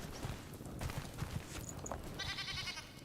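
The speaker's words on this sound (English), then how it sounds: "Is it because the goats are in here?" Goats in the Enshrouded video game bleat in short, faint calls under a low ambient game soundscape, with a brief higher chirping tone near the end.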